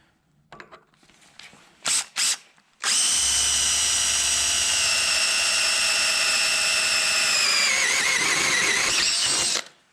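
A Matco Hyper step drill bit bores into hardened steel with a loud, steady high-pitched whine that holds for about seven seconds after a couple of short trigger blips, then winds down.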